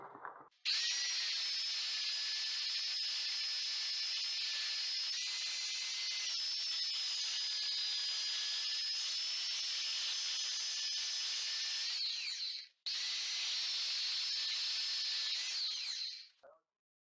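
A WORX belt sander set to speed 6 works on solid wood, giving a loud, close, hissing whine for about twelve seconds, then a brief stop and a shorter second run.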